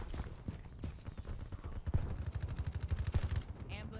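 Rapid bursts from the CUDA with the rapid-fire upgrade in Black Ops 3: a fast, steady string of sharp shots, fairly close, chattering continuously with a few heavier reports mixed in.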